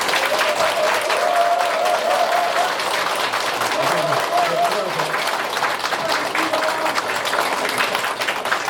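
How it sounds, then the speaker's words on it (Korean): An audience at a cooperative's briefing gives a long, sustained round of applause, thick, continuous clapping that stays loud for the whole stretch, with voices talking faintly underneath. "박수 한번 주시죠."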